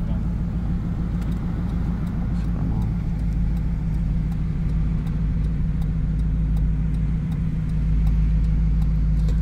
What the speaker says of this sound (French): Downshift. Downshift encore. Puis downshift encore.